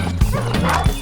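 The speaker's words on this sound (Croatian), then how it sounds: "Pas." A dog barks twice in quick, close, yipping bursts within about a second, alone with no talking.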